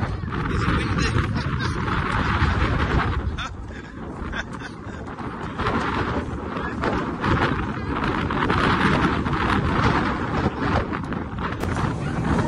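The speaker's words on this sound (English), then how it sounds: "It's windy." Steady, loud wind buffets the microphone, a continuous rumbling roar across the whole stretch with no talking.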